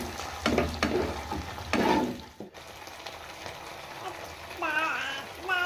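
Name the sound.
stir-frying cauliflower chilli with onion, capsicum and sauces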